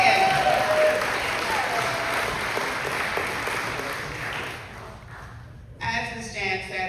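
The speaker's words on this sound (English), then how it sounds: "you need to give yourselves a great hand" Audience applause in a crowded hall after a speaker's opening thanks, a dense steady clatter of clapping that thins toward the end before a voice cuts in.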